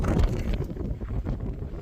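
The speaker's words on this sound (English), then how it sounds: "Sorry, it's super windy out here" Strong wind buffets the microphone outdoors, a continuous low rumble with gusty swells and no talking.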